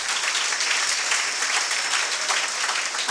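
Sustained applause from an audience at a success celebration for civil service exam candidates, steady dense clapping throughout without pause.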